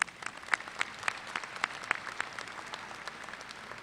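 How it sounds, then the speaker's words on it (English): Audience applause at a spring university commencement ceremony: many hands clapping at moderate volume with some sharp individual claps standing out, fading gradually over a few seconds. "Let's give them a round of applause."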